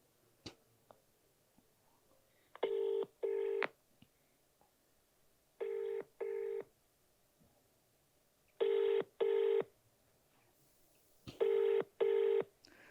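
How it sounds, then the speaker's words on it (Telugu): A telephone call is placed, with paired electronic tones repeating four times at steady intervals, each pair short and clear against a quiet background. "ఒకసారి ఏసీబీ గారికి కూడా ఫోన్ చేసే ప్రయత్నం చేద్దాం మనం"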